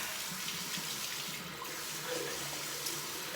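Water runs steadily from a tap to soak a bar of shaving soap, a continuous close hiss and splash at moderate level with no talk.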